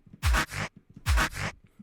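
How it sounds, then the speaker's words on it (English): A resampled little tom drum effect for a bass house track, two processed hits about a second apart, each a loud low thump opening into a bright, noisy smeared burst that fades quickly, with nothing else in the mix. "Another resampled little tom effect."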